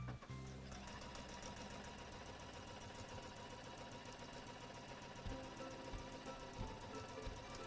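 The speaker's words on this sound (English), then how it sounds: "I'm going to give myself a reverse stitch at the beginning and at the end." A sewing machine runs steadily, stitching in reverse while making a bunny ear table runner, its rapid mechanical chatter continuous and close throughout.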